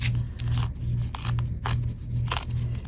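Regular copy paper torn along stitched seams during foundation paper piecing for a quilt block, heard as a series of close, crisp ripping and rasping bursts separated by brief pauses.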